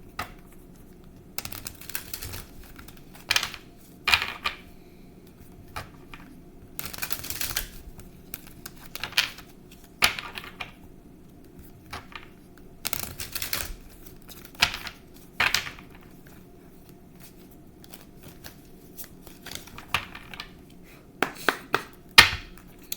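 Tarot cards shuffled in a quiet room, with repeated short riffling bursts and soft card slaps spaced irregularly over a low steady background hum.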